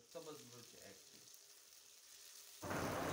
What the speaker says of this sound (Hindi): कढ़ाई रख के हमने कढ़ाई में ऑयल डाल दिया, उसके ऊपर ऑयल गर्म होने से बाद हमने टमाटर डाल दिया